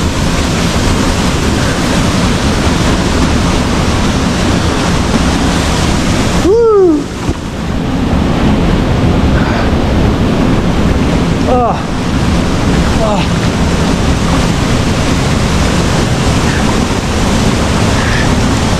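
A waterfall in Murcia, Spain rushes with a steady, loud, broadband roar of falling water that runs throughout, with brief voices speaking over it.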